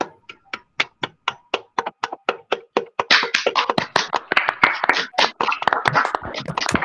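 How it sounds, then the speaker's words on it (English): Quiz winners at a National Constitution Day event get applause: a few slow, separate claps come first, then a denser, louder burst of many hands clapping close by. "we can applaud for them."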